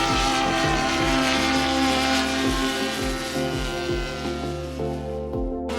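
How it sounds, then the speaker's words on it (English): Small autonomous unmanned fixed-wing aircraft from a university aerial robotics club in flight, a steady loud propeller-engine drone with a pulsing rhythm and shifting pitch throughout, no voices. "the aircraft transitions into autonomous mode"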